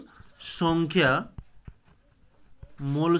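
A pen writes on paper during a spoken physics lesson, giving soft, faint scratches and taps in the pauses between a teacher's speech.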